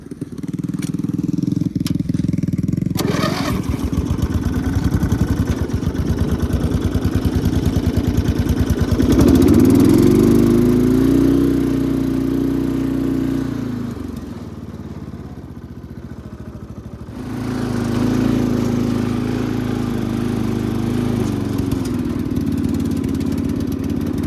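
A homemade mini jeep's small engine runs loud and close with a rough, steady drone, rising in pitch as it revs, dropping back to a lower idle, then picking up again.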